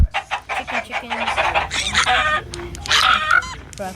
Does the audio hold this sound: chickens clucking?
yes